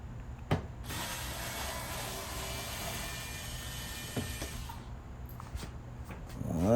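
A ratchet backs screws out of the blower housing on a Samsung front-load gas dryer, a close, sustained rapid clicking whir lasting several seconds before stopping, followed by a few light knocks.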